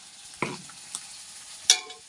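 Okra and shallots sautéing in a pan for sambar, with a few separate stirring scrapes over a faint, quiet sizzle.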